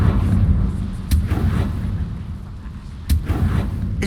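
A Confringo fire-blast spell explodes in the video game Hogwarts Legacy, two sharp booming bursts standing out over a dense rumbling game soundscape.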